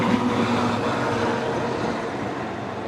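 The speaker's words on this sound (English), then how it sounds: "I caught the very end of the train there. I heard it." A Chicago to Milwaukee Amtrak train passes near General Mitchell International Airport, giving a steady, loud rumble of rolling rail cars that fades slightly toward the end, with no speech.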